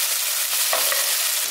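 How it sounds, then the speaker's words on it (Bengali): Onion fries with spices in a pan, a short, close, continuous sizzle with a brief stirring scrape partway through and no voices. "পেঁয়াজটা এখানে দেখুন মশলাগুলোর সঙ্গে ভালো করে ভাজা ভাজা করে নিয়েছি।"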